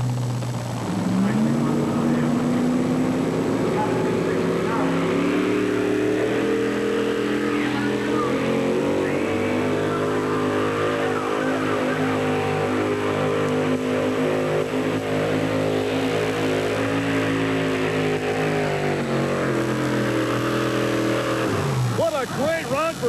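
A 4WD truck at a truck pull in Rock Springs, Wyoming roars under sustained heavy load, its engine note rising and falling for a long continuous pass, loud and close, with an announcer talking over it.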